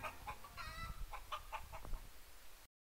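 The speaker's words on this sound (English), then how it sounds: "Chickens are the animals that lay the eggs that we typically eat for breakfast." Chicken clucking in a short series of close, clear, pecking calls and throaty clucks, fairly quiet overall, with no talking.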